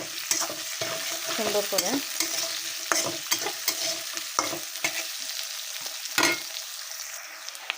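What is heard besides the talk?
potatoes, onions and slit green chillies frying together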